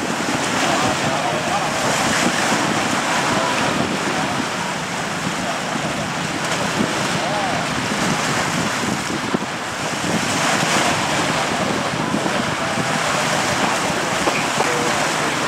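A fishing boat pushes out to sea through strong wind and heavy waves, with a continuous loud roar of wind buffeting the microphone and waves crashing on and off throughout, heard close up and without speech.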